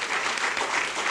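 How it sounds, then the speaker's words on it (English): Brief burst of steady crowd clapping for the grand marshal at an Irish celebration, filling the whole short moment with dense applause. "Let's give her a round of applause."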